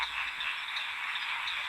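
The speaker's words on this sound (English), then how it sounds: "As more and more frogs join the chorus, the intensity of each individual increases." Male amberhetra frogs call together in a mating chorus, a continuous, overlapping trill of many voices with small pulsing peaks, moderately loud and unbroken.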